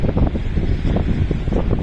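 Wind gusts outdoors buffet the microphone, making a steady, loud low rumble that fills the whole stretch with no speech.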